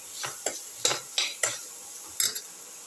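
A spoon mixes spices into cauliflower, potato and tomato pieces in a pan, with about six sharp scraping strokes against the metal, close and clear with no talk.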